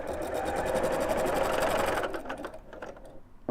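A sewing machine that has run out of bobbin thread runs with a fast, even mechanical whirring and rattle that slows and breaks into uneven chatters before stopping, close and loud.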